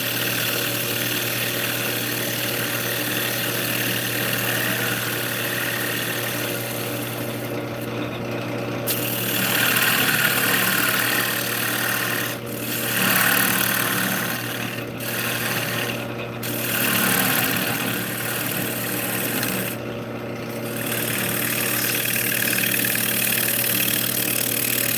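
Wood lathe turning a bowl rim with a spindle gouge, a steady loud motor hum under continuous rasping wood scraping, with brief pauses and cuts throughout.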